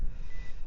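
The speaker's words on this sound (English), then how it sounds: "You can hear that beep, and that is my pinpointer in the background." A metal detecting pinpointer beeps steadily in the background outdoors at a dig site, a short, fairly constant tone over low wind rumble.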